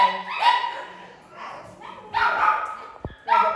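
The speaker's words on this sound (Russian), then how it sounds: "Собаки лапают, значит," Dogs barking and pawing at the door as someone arrives at a home, with yips and whimpers in short bursts and a voice talking over them.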